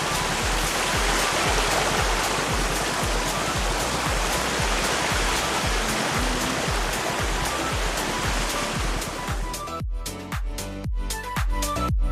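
A forest stream rushes continuously with a dense, hissing flow of water, loud and close, giving way to scattered splashes near the end.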